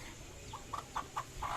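A few short, soft clucks from a chicken in a quiet outdoor yard setting, spaced about a quarter second apart and growing slightly louder toward the end.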